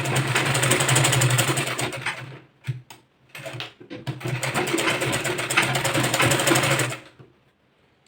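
A sewing machine stitches a boat neck blouse in long continuous runs, loud and close, with a brief stop-and-start pause in the middle and no talking.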